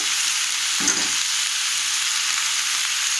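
Ground chilli spice paste frying in a pan, a steady close sizzle with one short stir or scrape near the start, no talking.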